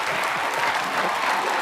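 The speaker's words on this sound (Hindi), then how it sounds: "जोरदार तालियां श्रद्धा के लिए और इस छोटी बच्ची के लिए भी" Studio audience applause on a television comedy show, a dense, continuous roar of many clapping hands, loud and even from start to finish.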